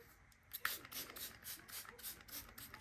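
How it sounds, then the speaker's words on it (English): Quick repeated bursts of a hypochlorous acid face spray being misted onto the face, about eight short hissing pumps in a steady rhythm, close and fairly quiet with no talking. "I'm first gonna go in with my hypochlorous acid spray"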